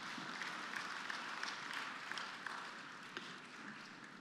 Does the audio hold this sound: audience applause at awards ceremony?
yes